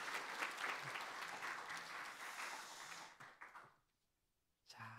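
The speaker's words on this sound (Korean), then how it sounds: "다시 한번 박수해 주시기 바랍니다." A church congregation applauds after a baptism during a Korean Presbyterian Sunday morning service: dense, steady clapping fills the room for about three seconds, then trails off into near silence before a brief sound returns at the end.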